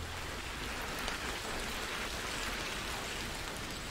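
Hailstones falling to the ground in a steady, dense patter, a continuous broadband hiss of many small ice impacts with no pauses, fairly close and even in loudness throughout.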